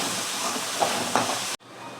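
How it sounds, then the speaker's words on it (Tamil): Onions sautéing in a pan give a steady, soft sizzling hiss with a couple of faint clinks, then cut off abruptly into quiet. "இந்த வெங்காயத்தை இப்போ நல்லா வதக்கி எடுத்துக்கலாம்"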